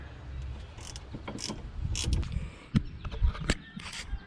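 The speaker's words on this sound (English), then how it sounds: "Just gotta tighten this up again with our 8mm Allen." Ratcheting clicks and metallic creaks as a bolt is tightened with an 8mm Allen on a rear brake carrier of a Mk4 GTI/Jetta, close and moderately loud in short uneven bursts.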